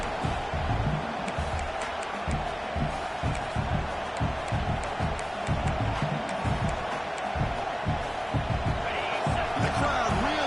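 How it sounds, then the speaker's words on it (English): Stadium crowd at a Huskies football playoff game roaring steadily near the goal line, a dense continuous wash of cheering with scattered claps and shouts. "The crowd really making some noise now, trying to help out this defense to get this stop near the goal line."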